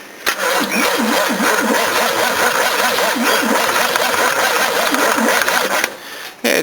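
An engine cranks repeatedly off a single battery being tested, a rhythmic whirring starter rising and falling in steady pulses, then briefly stops before cranking again.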